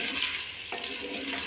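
Chicken pieces frying in a pan for a korma, a steady broadband sizzle with a brief stir partway through, close and continuous with no talk.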